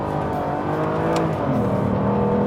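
An Aston Martin Virage driven fast on a track, its engine revving hard and close with rising and falling pitch, loud and continuous with no talk over it.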